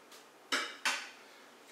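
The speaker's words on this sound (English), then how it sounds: "now's a good time to skim off all this fat because it's congealed at the top" A utensil scraping congealed fat off the top of a pot of day-after turkey soup gives two sharp metallic clinks and scrapes in quick succession, close by, with a third starting at the end.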